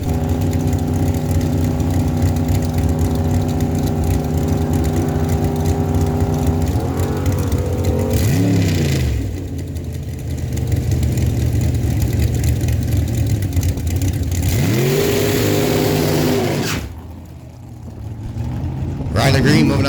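Drag strip race with a Camaro and a 1991 Ford Mustang: loud engines drone and rev, a launch brings rising and falling engine sweeps, then the cars roar away into the distance, with an announcer talking over much of it.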